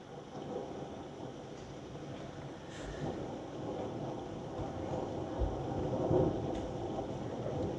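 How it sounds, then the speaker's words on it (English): Distant thunder rumbles low and steady through a heavy rainstorm, with the broad hiss of rain and some wind noise over the microphone, the rumble swelling slightly toward the end. "So thunder."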